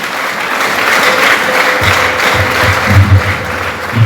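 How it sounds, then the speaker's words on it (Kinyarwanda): A church congregation breaks into sustained, loud applause after an evangelist's sermon, many hands clapping together in a continuous wash of sound, with a few lower thumps and murmurs rising toward the end. "Reka tukomereze amashyi menshi."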